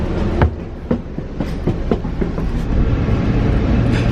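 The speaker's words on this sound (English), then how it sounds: "Okay, Jackson, this is a request stop, so make your intent clear when the train shows up." A train pulling into a flagged request stop near Boston, loud and close, with repeated clickety-clack wheel thumps on the rails as it slows, then a steady rolling rumble.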